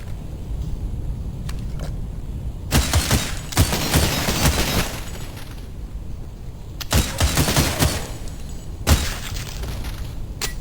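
Enemy gunfire in the video game Cultic, two loud bursts of rapid crackling shots and blasts, each lasting a couple of seconds, over a low rumbling game background.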